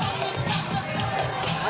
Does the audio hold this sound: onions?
no